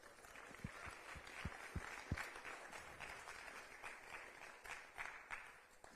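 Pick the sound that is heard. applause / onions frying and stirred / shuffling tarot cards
applause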